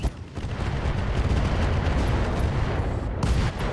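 Heavy mech weapons firing in the video game RogueTech, including UAC-5 autocannon fire, come as a dense, continuous roar of booming gunfire and blasts that fills the clip from start to finish, with no voices.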